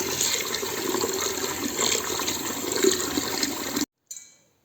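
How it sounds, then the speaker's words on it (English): Rice is rinsed under running water, a steady close gush and splash that carries on for several seconds before cutting off abruptly, followed by a brief faint dribble. "Wash rice until water becomes clear."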